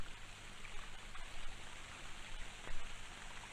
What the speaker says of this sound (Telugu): షవర్ సౌండ్ వస్తుంది.